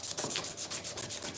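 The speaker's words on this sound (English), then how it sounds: "Doing satisfying things like sanding to finish." Repeated sanding strokes on a knife handle while finishing it, a steady rhythmic rubbing of roughly ten close, fairly loud passes with no voices.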